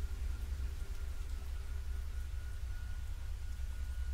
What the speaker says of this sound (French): La pluie et le tonnerre étaient forts.